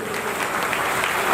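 A crowd at a public gathering in Faridkot claps for an arriving guest, a short, dense burst of steady clapping at even loudness.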